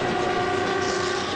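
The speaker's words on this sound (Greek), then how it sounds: "Το τρένο φεύγει." A passenger train pulls out of a station in a 1984 Greek film scene, a steady rumbling roar with sustained tonal hum lines running unbroken throughout, loud and close, with no voices.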